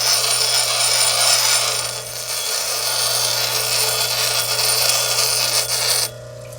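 Loud, continuous gritty grinding of quartz being shaped into a sphere, a harsh rasping roar with a low steady hum beneath, cutting off abruptly near the end.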